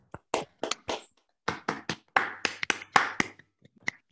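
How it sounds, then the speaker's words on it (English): Brief, scattered applause from online meeting participants who have unmuted, a loose flurry of separate claps and taps of varying loudness through unequal microphones, fading to a last few claps. "So I suggest we unmute ourselves for a short round of applause."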